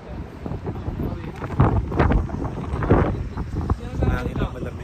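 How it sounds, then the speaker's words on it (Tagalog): Cold wind buffets the microphone in Akureyri, Iceland, a steady rumbling gusting roar with occasional voices beneath it. "Hangin lang malamig."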